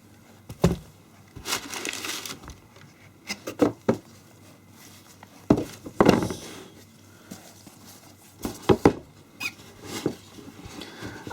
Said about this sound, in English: let's open the box